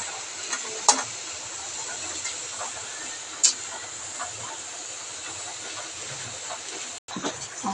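Vegetables for pancit cook in a pan with a steady soft sizzle and hiss, broken by a few brief clinks of a utensil against the pan.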